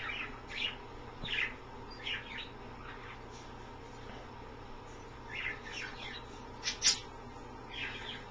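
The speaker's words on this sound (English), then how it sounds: "You encourage the other birds, Sydney, eh?" Australian birds chirping and calling in short bursts while bathing, scattered bright chirps across a faint, steady outdoor background.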